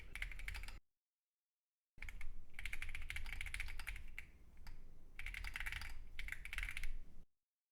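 Rapid keystrokes on a Keychron Q15 Max ortholinear keyboard, steady clacking in bursts with a short silent gap and a brief pause, close and fairly quiet, no voices.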